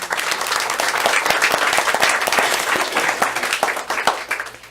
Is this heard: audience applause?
yes